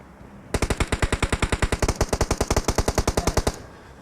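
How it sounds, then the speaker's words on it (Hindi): Machine gun fire in the battle royale game PUBG rips out in one sustained burst of about thirty rapid, evenly spaced shots, loud and close, then stops abruptly. "अबे किस पे उतार दी इतनी गोलियां?"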